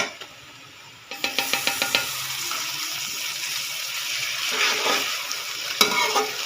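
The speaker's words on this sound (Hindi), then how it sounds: "अब इसमें अदरक लहसुन का पेस्ट ऐड करेंगे।" Ginger garlic paste hits hot oil in a pan of light-browned onions for Punjabi chicken karahi with a sudden loud sizzle, followed by a string of quick scraping stirs and a steady crackling fry.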